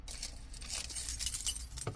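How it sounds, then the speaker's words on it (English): A car key goes into the ignition of a 2009 BMW X5 E70, close-up metallic jangling of the key ring and a few small clicks and scrapes as it is inserted. "Put the key in."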